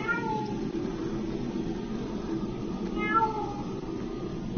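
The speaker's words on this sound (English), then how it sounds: "Has a fucking cat." A cat meows twice outdoors, the two short rising cries spaced about three seconds apart over a steady low background rumble.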